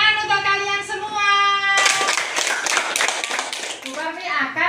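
Children's clapping in a classroom bursts in partway through, a dense patter of many small hands following a sung, chant-like voice and fading under a child's singing near the end.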